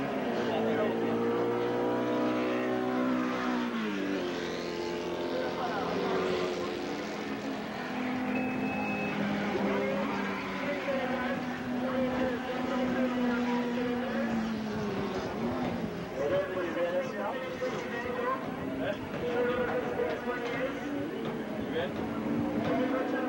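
Classic race cars roar through the bottom hairpin bend at the Wallerfield circuit in Trinidad, engines rising and falling in pitch as they pass, with a commentator talking over them throughout.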